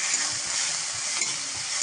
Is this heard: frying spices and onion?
yes